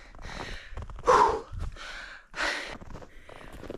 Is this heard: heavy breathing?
yes